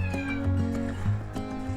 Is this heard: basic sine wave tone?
no